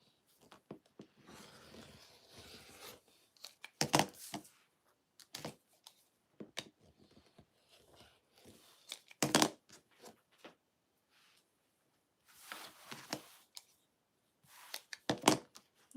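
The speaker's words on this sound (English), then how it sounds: "And then cut this one out." Fabric pattern pieces for a sling bag are cut out by hand, giving intermittent close scissor snips and paper-and-cloth rustles scattered irregularly with quiet gaps between.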